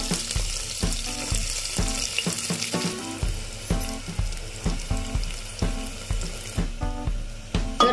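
Onions frying with whole spices and cumin in a pan for a pea and paneer pulao, a steady sizzle broken by rhythmic spatula scrapes and clinks against the pan roughly every half second.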